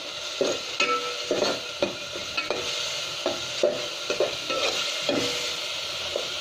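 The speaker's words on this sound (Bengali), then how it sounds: "একটু ভেজে নেব ভালো করে" Spice paste fried in a pan for a dried shrimp and bottle gourd dish, with a soft sizzle beneath regular clacking stirs of a utensil against the pan, close and fairly quiet.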